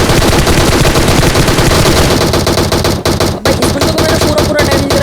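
Loud, nonstop automatic gunfire in a first-person shooter video game, with dense rapid bursts filling the whole stretch and only a brief dip near the end.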